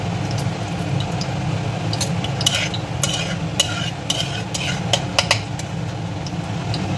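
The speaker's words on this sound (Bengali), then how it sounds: "কড়াইয়ে আমি সরষের তেল নিয়ে নিয়েছি আর প্রথমে একটু কালো জিরে ফোড়ন দিয়ে নেব" Nigella seeds tempering in hot mustard oil in a wok, a steady low sizzle broken by sharp metallic clinks and scrapes of a spatula, close and heard alone.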